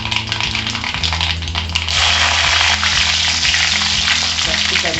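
Dried red chillies dropped into hot coconut oil with mustard seeds sizzle steadily at close range, a loud hiss that swells partway through and keeps going, with small pops throughout.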